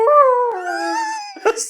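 A dog gives a drawn-out, wavering wail with a falling pitch, loud and close, ending in a brief scuffling noise.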